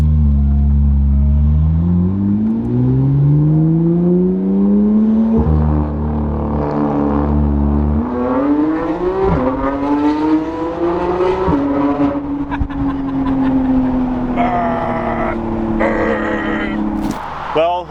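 A Porsche GT3 RS engine revs hard under acceleration while driving, its pitch climbing steadily through several gear changes, loud and close throughout.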